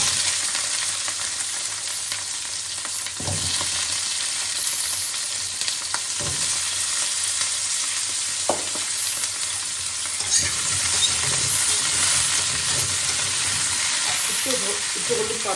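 Cauliflower stems and potato frying in oil in a pan, a loud, steady sizzle running throughout with occasional knocks of a utensil and brief bits of speech.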